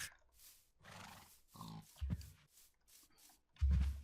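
Cows in the Minecraft video game giving two short, low, blaring moos, the second one louder, set among quieter scattered in-game sounds.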